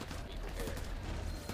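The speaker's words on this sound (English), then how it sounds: "Who's shooting at me?" Rapid gunfire rattles through a Crackdown 3 firefight in dense, continuous bursts, fairly faint and steady, with a voice talking over it.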